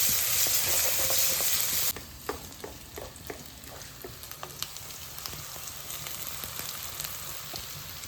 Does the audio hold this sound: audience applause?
no